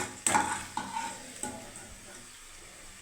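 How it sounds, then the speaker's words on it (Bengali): Fried bitter gourd tipped into hot spiced gravy in a pan: a steady sizzle with several sharp clanks of a utensil against the pan, close and loud, no talk. "এবারে দেখুন আমি মশলার গ্রেভিতে দিয়ে দিচ্ছি"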